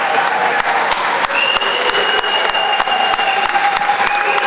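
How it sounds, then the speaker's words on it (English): A crowd at a May Day rally hall applauds a speaker with loud, sustained clapping and sharp claps popping through the dense roar, while a few voices carry faintly underneath. "Let's give her a round of applause."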